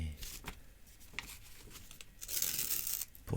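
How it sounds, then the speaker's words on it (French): Scissors cut a strip from a sheet of paper up close, giving soft tearing, crinkling snips that build into a louder rustle near the end, with no speech. "pour découper une lamelle de papier"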